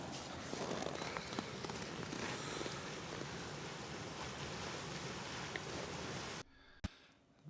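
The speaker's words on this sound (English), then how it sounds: "I'm down at the waterfall now, and it's not actually completely frozen as I'd expected it would be." A partly frozen waterfall in a Norwegian fjord in winter gives off a steady, close, full rushing roar of falling water with no talk. It cuts away abruptly near the end.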